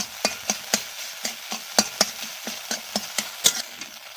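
Scrambled egg for mixed chowmein fries in a pan while a spatula stirs it, making a steady run of sharp scraping taps over a soft, continuous sizzle, with no voices.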